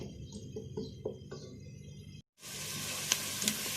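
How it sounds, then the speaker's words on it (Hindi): Chicken fries for chicken karahi in a karahi pan, first with soft clatters of stirring over a low sizzle, then after a brief silence a loud, close, steady hiss of oil with a few sharp pops. "ये इस तरह फ्राई करना है।"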